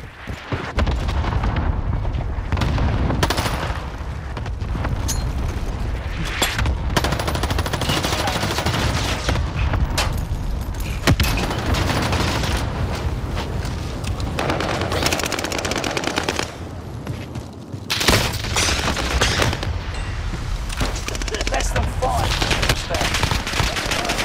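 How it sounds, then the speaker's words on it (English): Cluster airstrike blasts in the Champions of Caldera video game come as a dense, continuous barrage of loud booms and rapid gunfire-like cracks that hardly lets up for the whole stretch. "Cluster strike is active."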